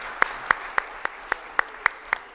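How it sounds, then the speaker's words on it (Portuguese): At a solemn session for the 2023 Fraternity Campaign, sharp, evenly spaced claps ring out close by, about eight in a steady rhythm over a quiet background. "Mais uma salva de palmas para todo mundo."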